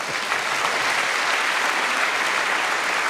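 Dense, steady applause from a live audience at a French science talk fills the whole moment, with no voices over it.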